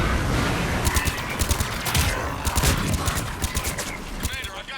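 Video game gunfire crackles in rapid bursts of sharp shots close by, repeating throughout, with a voice speaking over the shooting.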